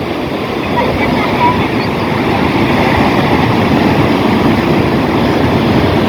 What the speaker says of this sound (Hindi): यहाँ पर बहुत ठंडी ठंडी हवा चल रही है